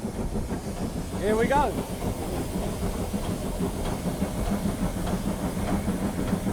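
Steam locomotive running steadily, with a continuous rumbling chug, hiss and rail clatter filling the scene at close range, while someone speaks briefly over it.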